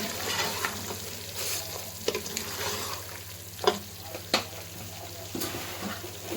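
Mutton karahi with garam masala powder being stirred in a pan over steady sizzling, with scattered scraping strokes and a few sharp knocks of the utensil, close and moderately loud with no voices.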